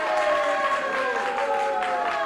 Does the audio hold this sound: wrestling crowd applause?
yes